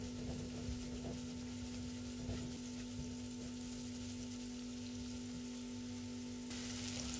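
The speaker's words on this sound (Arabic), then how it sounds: "بحركهم مع بعض على الغاز" Onion and salt frying in a pan on a gas stove, a steady soft sizzle with a constant hum and occasional faint stirring clicks.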